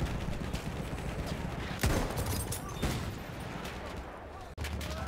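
Gunfire in the video game Battlefield 1 crackles through a dense, noisy battle mix, with a couple of louder sharper shots standing out above steady background din.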